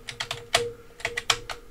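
Close, crisp clicks of keys pressed on a Dell computer keyboard, about ten irregular taps in quick succession over a faint hum.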